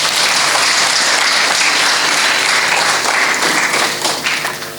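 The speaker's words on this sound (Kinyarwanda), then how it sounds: "Nagira ngo mbasabe mubampera amashyi." A church congregation at a Pathfinder Day service at Kabeza SDA Church applauds, dense sustained clapping from a large crowd that holds steady and then begins to taper off at the end.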